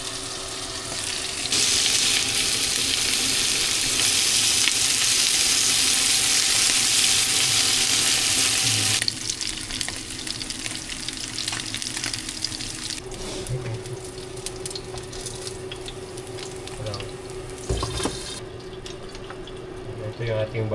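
Buttered garlic fries loudly in a pan after being flipped, a dense, continuous sizzle close by that fades to a softer crackle partway through, with a few clatters of a utensil and occasional faint voices.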